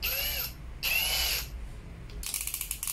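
DCA cordless drill rated 120 N·m driving a screw, with two loud whirring bursts of the motor, then a rapid ratcheting clutch clatter near the mic.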